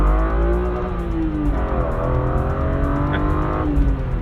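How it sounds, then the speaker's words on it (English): A 1994 BMW M3 E36 engine with a five-speed manual gearbox revving hard, its rising and falling tones strong and sustained, close and loud with no talk. "what you quickly realise with this engine is that it's all about revs."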